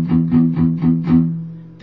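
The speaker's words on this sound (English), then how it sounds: "You're going to palm mute this power chord, and you're going to strum each one of these power chords 8 times." Palm-muted power chord on electric guitar, strummed in a steady chugging rhythm of about eight tight, damped hits, close and fairly loud, with a fresh strum starting at the end.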